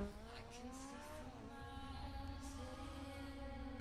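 Racing cars in Forza Horizon 4, engines droning and rising in pitch with a faint tire squeal, steady and moderately quiet with no voices.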